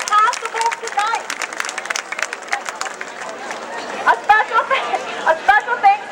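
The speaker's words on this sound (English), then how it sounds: "Big round of applause for them." An outdoor crowd at Painesville Speedway claps and cheers in steady applause, with scattered voices and chatter mixed through it.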